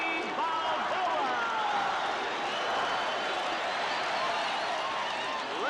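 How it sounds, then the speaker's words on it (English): A boxing arena crowd in a Rocky film scene roars continuously, a thick, sustained wall of cheering and shouting voices that fills the space evenly. "Listen to this crowd."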